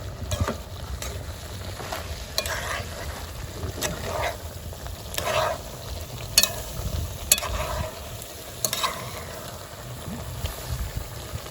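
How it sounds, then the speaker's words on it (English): Saltfish rundown gets stirred in a pot, with a spoon scraping and knocking in repeated strokes over a soft simmering hiss, close and fairly quiet. "I'm gonna stir everything up, get the saltfish going through."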